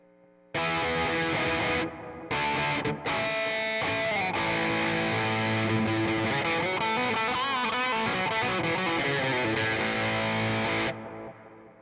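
Overdriven electric guitar strums and sustained chords on an Aklot Soltone Tele-style guitar using the bridge split pickup, loud and gritty with a thin, bright tone and a faint hum, played alone for several seconds.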